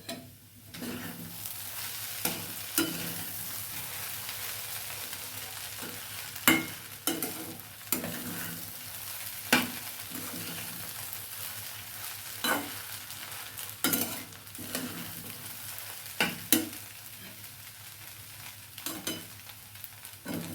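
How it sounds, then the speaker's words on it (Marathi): Fasting khichdi stirred in a pan, with a spoon scraping and clacking in irregular sharp knocks over a soft steady sizzle, close and clear with no talk. "हलवून घ्यायची आता आपल्याला खिचडी"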